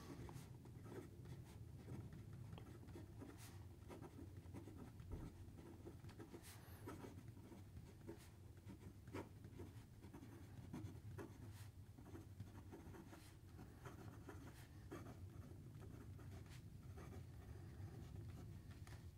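A Narwhal Nautilus fountain pen with an Architect grind nib writes on paper in a steady, close, soft scratching and rubbing with small taps and strokes. It is a faint and continuous sound that plays alone, and no one speaks.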